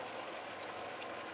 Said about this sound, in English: I'm now also adding the